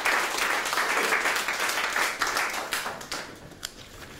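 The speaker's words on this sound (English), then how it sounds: "Please applaud the kids, as this is their poetry." Audience applause for children's poetry at a Seattle poetry read-off, a steady wash of clapping that stays dense for a few seconds and then thins out toward the end.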